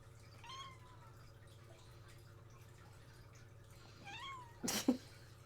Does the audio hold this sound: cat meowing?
yes